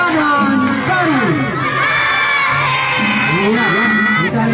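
A roadside crowd at an Indonesian Independence Day street parade cheers, whoops and shouts for a passing contingent, a loud dense wall of excited voices, children's shouts among them, continuing throughout.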